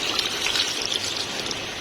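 Water is poured along with yakhni stock into a pot of potato and mutton curry (aloo gosht), making a steady, close gushing splash that runs without break and without any talk.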